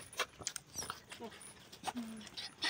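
A dog whimpers faintly in a few short, high whining bursts, with scattered small knocks and rustles around it and no clear talking.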